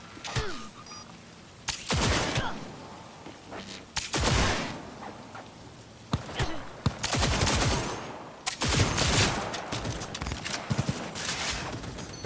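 Repeated bursts of gunfire from the video game Cyberpunk 2077, loud and close, with several rapid volleys separated by short pauses across about twelve seconds. No one speaks.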